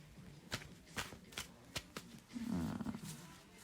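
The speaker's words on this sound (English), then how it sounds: "Get a good shuffle going on here." Cards are shuffled in quick riffling bursts, soft flutters and taps close by, ending in a longer riffle.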